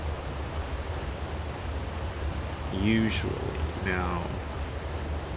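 Steady broadband rush of a waterfall in the video game ARK: Survival Ascended, continuous and even throughout, with someone briefly talking over it partway through.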